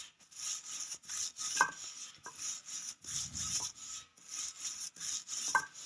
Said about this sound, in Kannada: ನೋಡಿ ಎಷ್ಟು ಚೆನ್ನಾಗಿ ಲಟ್ಟಿಸ್ತಾ ಇರೋದು